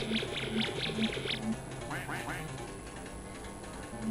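Squawking cartoonish birds in the 80 Days video game minigame: a run of quick repeated calls, then a brief rising squawk, under game music and background noise.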